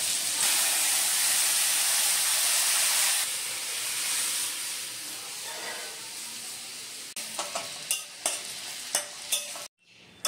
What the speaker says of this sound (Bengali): আর আমড়াটা একটু ভেজে নিচ্ছি।